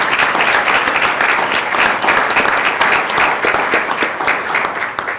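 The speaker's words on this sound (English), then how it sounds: "How about a round of applause" Steady, moderately loud applause from an audience at a board of education regular meeting, continuous clapping filling the room without a break.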